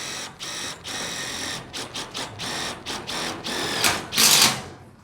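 A power driver screws in panels on a Titan 3x3 shed build, giving several short whirring bursts with pauses between, then a louder final burst with the screw biting in.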